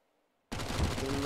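Counter-Strike SMG gunfire on the Nuke map of a StarSeries & i-League match: near-silence, then at half a second a dense, sustained automatic spray begins and holds loud to the end.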